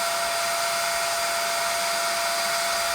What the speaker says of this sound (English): it filled up the vacuum cleaner